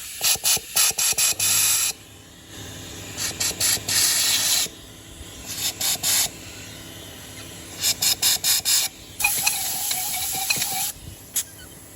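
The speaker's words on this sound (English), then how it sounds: "So what we do is we just blow these holes out." Compressed air blows dust out of holes drilled for base plate spigots of frameless glass pool fencing, loud hissing bursts in repeated short and longer blasts with gaps between.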